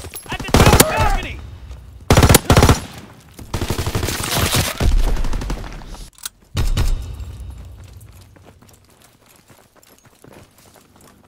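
Gunfire in a Call of Duty WWII battle: bursts of machine-gun fire and single shots crack loudly in clustered volleys, with a heavy boom near the middle and quieter scattered shots fading toward the end.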